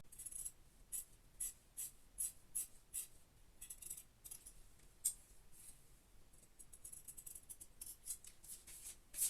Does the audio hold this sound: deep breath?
no